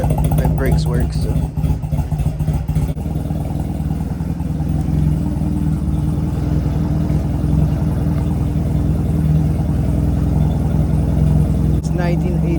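A 1986 Honda Rebel, a small motorcycle, idles steadily with a low, continuous engine drone that stays loud and close throughout, with a voice talking over it.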